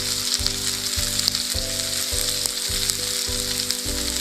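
Sliced onions fry hard in a hot pan over high flame, a loud continuous sizzle with a steady underlying hum and occasional faint clicks, with no voices present.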